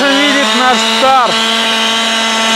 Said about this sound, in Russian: Там пилят, тут сверлят.